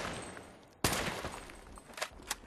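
Assault rifle fire in Call of Duty Black Ops III multiplayer, with a sharp loud burst opening the sequence, then quieter scattered shots and a few distinct cracks toward the end.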